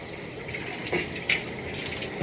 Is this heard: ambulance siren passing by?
no